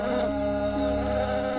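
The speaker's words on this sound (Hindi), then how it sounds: "साईं, ये तो मधुमक्खी का छत्ता लेकर क्यों घूम रहे हो?" Honey bees from a hive buzz in a dense, steady drone that stays close and fairly loud throughout, with no voices.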